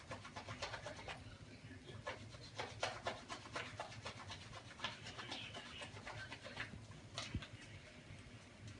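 Soap being rubbed by hand to work up a lather, a soft continuous scrubbing texture with repeated brief rubbing strokes throughout, fairly quiet and close.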